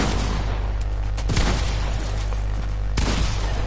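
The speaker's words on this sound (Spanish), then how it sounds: "El último disparo era certero." Gunfire rings out in a PS4 video game, sharp bursts and booming shots over a dense, steady game soundscape, with loud reports near the start and a heavy shot near the three-second mark.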